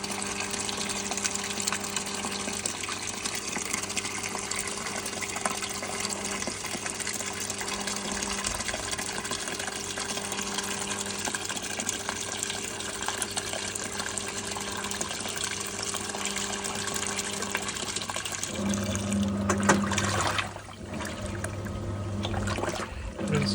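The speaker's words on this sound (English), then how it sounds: "that was the drum locking, and we have started to fill again." A Hitachi PAF1260PX washing machine fills with water for a rinse, a continuous rushing flow with a steady hum, close and even, then a brief clunk and change near the end.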